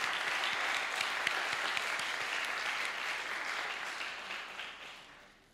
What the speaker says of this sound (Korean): 우리 하나님께 감사와 영광을 박수로 올려드리겠습니다.